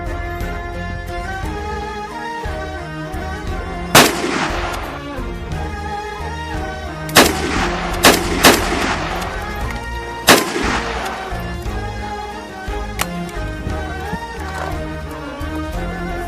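Gunfire in a shooting scene from a Gulf Arabic TV drama series: several loud, sharp shots spaced irregularly over a steady bed of dramatic music, with no speech.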